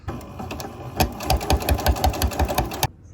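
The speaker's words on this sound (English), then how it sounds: "So stitch all the way down this and then do a flat filled seam on the outside." A sewing machine runs a quick, steady stitch burst along a seam on a shirt sewn from a lace tablecloth, with rapid even needle thumps for a few seconds before stopping abruptly.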